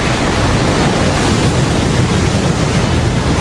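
A tidal bore surges upriver as a large incoming tidal wave front, giving a steady, loud, broad roar of rushing water with no voices.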